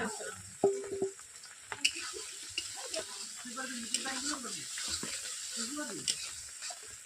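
Potatoes with spices frying and being stirred in a pan for a chicken curry, a steady soft sizzle with scraping stir sounds and occasional clatter, moderately close.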